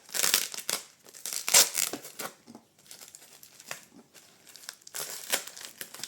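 Heavily taped gift packaging crinkles and tears in bursts of rustling and ripping as the tape is pulled off, close by, with short pauses between pulls.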